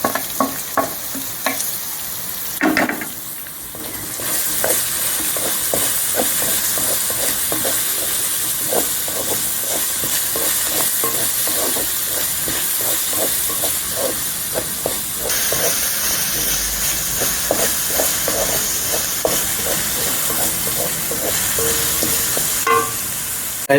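Crushed onion, one large one, frying in a pan with a loud, steady sizzle and hiss throughout, marked by frequent rhythmic scraping strokes of a spatula stirring it.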